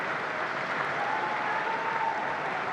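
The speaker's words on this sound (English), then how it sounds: "Applause ringing out around Jalan Besar Stadium" Distant, steady applause from football fans around Jalan Besar Stadium at a Singapore Cup semi-final between Lion City Sailors and Balestier, a broad wash of clapping from the stands at even level.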